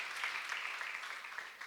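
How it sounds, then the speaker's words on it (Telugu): A church congregation claps together during a Sunday service, a dense, steady wash of applause from many hands at moderate distance, continuous and fairly even throughout. "దేవుడు చేసిన కార్యాన్ని బట్టి చప్పట్లు కొట్టి దేవుని మహిమ పరుద్దాం"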